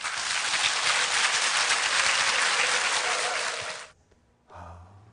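A large church congregation at a mountaintop revival service bursts into loud, dense applause to welcome the pastor, a full sustained roar of clapping that stops abruptly after about four seconds, followed by a brief quiet rustle.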